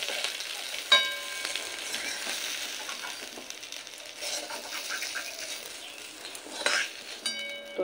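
Mixed vegetables frying in a covered wok in mustard oil, a soft steady sizzle with occasional metallic clinks of utensils against the pan, close and fairly quiet with no talking.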